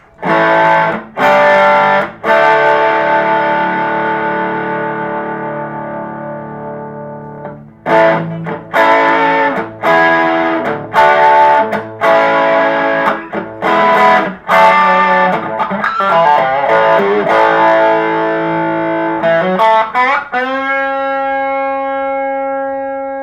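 Electric guitar played through a Joyo R-02 Taichi overdrive pedal, loud distorted chords and single notes ringing with long sustain, broken by short pauses, ending on a held chord that fades out.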